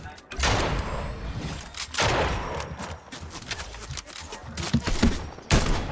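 Bursts of gunfire in Fortnite, loud and close, with rapid shots clustered in several volleys across a few seconds and brief lulls between them.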